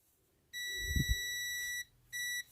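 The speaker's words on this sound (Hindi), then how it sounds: "तो यहाँ पर इसको बजर की रेंज पे रखा है मैंने" A multimeter set to its continuity buzzer range beeps on the shorted pins of an IGBT from an induction cooker, giving one long steady tone, a short gap, then a second shorter beep, with faint handling noise in between.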